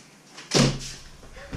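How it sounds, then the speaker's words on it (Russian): An indoor door is shut once at home, giving a single close, firm thud with a short rattle that fades quickly against quiet room noise. "Агафелия, давай я закрою дверь, чтобы там не было шума."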